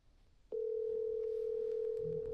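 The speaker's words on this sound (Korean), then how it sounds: "전화를 먼저 걸어보겠습니다" A telephone dial tone sounds while a call to a friend is being placed, a single steady electronic tone that starts abruptly and holds loud and unbroken, with no talking.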